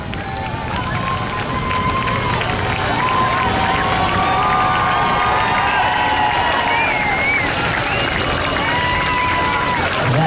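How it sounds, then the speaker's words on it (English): An outdoor crowd at an amateur water ski show applauds and cheers after a ski pyramid, a loud sustained roar with whoops and shouts rising over the clapping and some wind noise. "Give them a big round of applause."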